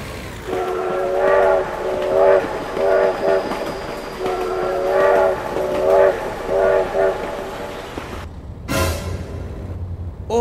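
A train horn sounds in repeated loud blasts over rumbling rail noise as a train passes, with an excited voice shouting briefly near the end.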